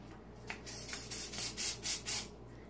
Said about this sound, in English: Give it a little spray just to make sure that the hold is good